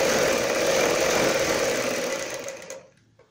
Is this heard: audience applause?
no